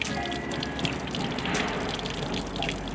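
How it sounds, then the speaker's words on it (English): Water rushes and gurgles steadily out of a trailer pipe as it is drained for winterizing, a continuous close splashing flow with no talking. "draining all the water out of here so that I don't have any explosions or pipes freezing"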